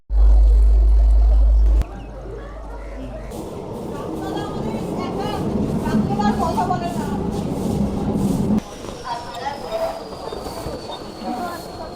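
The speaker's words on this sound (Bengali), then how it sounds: "ট্রেন ধরবো 4:17 ট্রেন যেটা আসছে" A local train at Subhashgram station rumbles and clatters nearby with squealing wheels and a loud burst at the start, while crowd voices and talk continue underneath.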